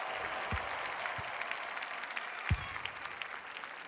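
Crowd noise in the AFL 26 football video game at a VFL match, Box Hill versus Brisbane: steady, distant applause and cheering with a few low thumps, continuing without a break.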